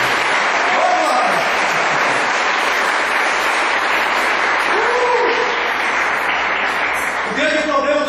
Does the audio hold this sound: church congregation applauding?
yes